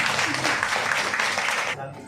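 A crowd claps loudly and continuously for a couple of seconds at a hotel event in Prayagraj before the applause starts to fade.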